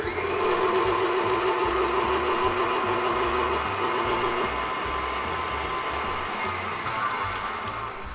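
A KitchenAid stand mixer whirls an egg custard mixture, a continuous motor whine and churning drone that holds steady for the whole stretch and eases off slightly at the end, close up and alone.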